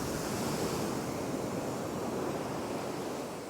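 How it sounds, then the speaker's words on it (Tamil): Rough sea waves crash onto the shore at Maruthamunai near Kalmunai, a continuous loud roar of surf with wind noise on the microphone, close and unbroken, with no talk. "கடல் இன்றைக்கு ஆக்ரோஷமாக இருக்கு"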